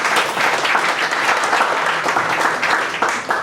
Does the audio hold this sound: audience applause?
yes